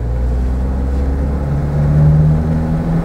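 A 1962 Mercedes 190 SL roadster engine pulls steadily in second gear up a steep hill, a close, continuous low drone that rises slightly in pitch as it climbs.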